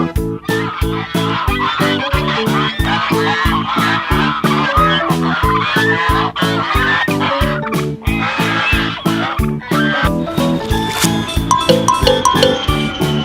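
A yellow toy duck gives out a run of loud, close, repeated electronic quacks and honks in a rapid, regular rhythm, with a tinkling tone near the end.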